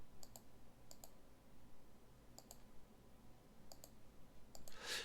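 Computer mouse clicks during Photoshop practice work, appearing as a handful of sharp, quiet clicks, some in quick pairs, spaced irregularly over a faint room hum.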